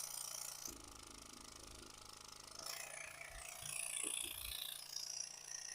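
The small vacuum pump from a desoldering station runs at 5 volts on the bench, giving a low, steady mechanical hum with faint ratcheting and rattling pulses, close and quiet with no voices.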